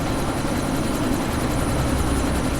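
A helicopter in the video game Deus Ex: Mankind Divided produces a loud, constant rotor and engine roar with a rapid thumping pulse, filling the space without a break and no voices on top.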